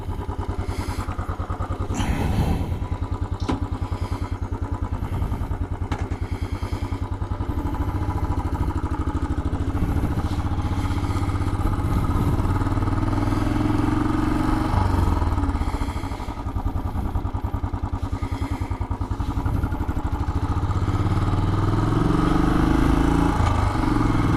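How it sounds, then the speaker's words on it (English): A Royal Enfield motorcycle rides along with a steady, loud thumping engine drone, the note rising and falling slightly with throttle changes and occasional clatter throughout. "today we're taking the Royal Enfield for a ride"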